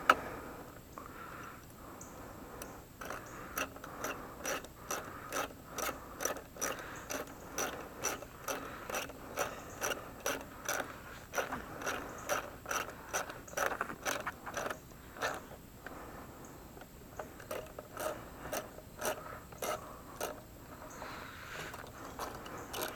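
A Craftsman ratchet clicks in rapid, repeated bursts while tightening bolts on a Briggs & Stratton 500E series mower carburetor, close and crisp, with short pauses between strokes.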